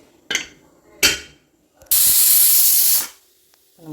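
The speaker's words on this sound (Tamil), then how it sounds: "நம்மளோட விசில் ஒரு விசில் வந்துருச்சு." A pressure cooker on the stove lets out one loud, sustained hissing whistle of about a second, after two short sharp puffs of released steam, then falls quiet.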